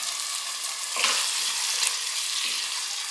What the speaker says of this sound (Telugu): ఇవన్నీ మిక్స్ చేసేసి మూత పెట్టేసి సిమ్లో ఒక 3 నిమిషాలు ఈ టమాటాలు మగ్గే వరకు మనం ఉడకనిద్దామండి